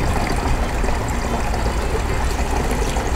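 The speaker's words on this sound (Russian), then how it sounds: "И добавляем сюда воды." Water pouring into a garden pump sprayer already holding herbicide, a loud, dense, continuous rushing gush that holds steady throughout, close and alone.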